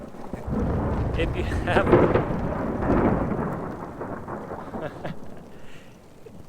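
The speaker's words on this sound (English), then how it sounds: "whoa, there was a lightning strike." Thunder from a nearby lightning strike rolls in as a deep, loud rumble that peaks and slowly fades over several seconds, with someone talking over it on a Colorado mountain trail.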